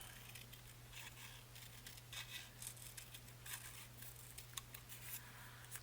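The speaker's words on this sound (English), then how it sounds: "I'm just going to cut on this side of that line" Scissors snip through paper on a sewing craft table, a steady run of small crisp cuts at close range over a constant low electrical hum, with no talking.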